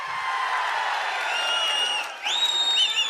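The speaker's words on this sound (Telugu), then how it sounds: "అవునంటే గట్టిగా చప్పట్లు కూడా చెప్పండి అవునని" A large outdoor crowd at a political rally roars steadily, with shrill whistles rising over the cheering noise near the end; clapping is not clearly distinct.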